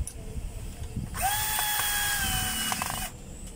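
A power drill drives a screw in one steady burst of about two seconds, a close, loud whine with a slight pitch rise at the start, between brief quieter moments.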